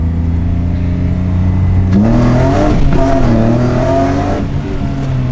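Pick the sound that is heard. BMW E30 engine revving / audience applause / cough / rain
BMW E30 engine revving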